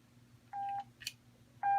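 Volume switch beeps from an Ocean Reef GSM Mercury diving communications unit, two clean electronic tones separated by a short pause, heard close and alone over a low steady hum.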